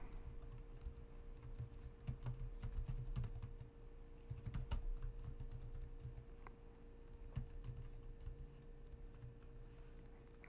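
Rapid typing on a computer keyboard as a wget command is entered in a Linux terminal, steady clicking keystrokes running throughout at close range over a low constant hum, with no talking.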